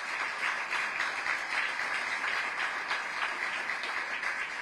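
A crowd applauds the firefighters during a political speech, a steady, even wash of clapping heard from a distance and fairly quiet throughout.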